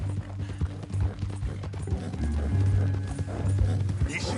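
Horse hooves clip-clopping in Red Dead Redemption 2 as a captive is carried on horseback, a steady, fairly close walking rhythm running under ongoing conversation.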